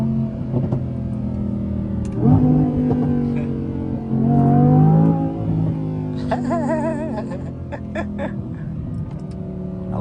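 A 2022 Audi R8 Performance engine revs while driving, with throaty mid-pitched surges and gear-change shifts rising and falling under the cabin's engine drone, close and loud, with some brief chatter mixed in.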